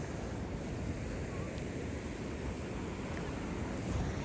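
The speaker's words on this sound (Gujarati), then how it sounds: "અમે દરિયાકાંઠે આવ્યા છીએ" Ocean waves roll onto the seashore at Somnath on the Gujarat coast. They make a steady, low, broad wash with wind buffeting the microphone, a continuous rumble without distinct breaks.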